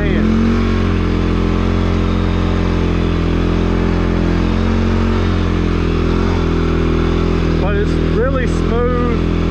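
A 2021 CFMOTO CFORCE 400 ATV engine drones steadily while riding on trails, a loud close low hum with clattering over it, and a voice briefly speaking near the end.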